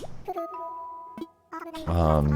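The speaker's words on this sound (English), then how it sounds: "So that was the 10 o'clock bell." A bell chime rings out a few sustained tonal strikes marking ten o'clock, with clear ringing tones and brief pauses between them, ending in a louder, fuller burst.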